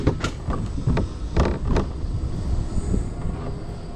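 A mountain coaster cart coasting downhill on the Lost Mine track in Pigeon Forge, Tennessee, giving a steady rolling rumble with repeated clacks and thumps from the rails, close and continuous throughout.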